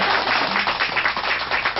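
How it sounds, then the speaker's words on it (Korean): Studio audience applause on a Korean TV talk show, a dense steady wash of clapping held at an even level for the whole stretch, with no voices standing out. "세상에 박수 좀 부탁드립니다."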